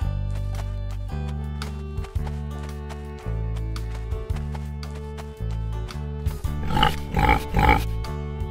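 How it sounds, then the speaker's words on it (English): A pig grunts and oinks several times in quick succession near the end, over a steady backing of music. "Pig."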